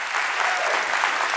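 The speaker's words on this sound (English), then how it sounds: "Now the crowd is about to applaud" Studio audience applause, a thick, even wash of many hands clapping at close range for a brief moment, steady throughout without a clear start or finish.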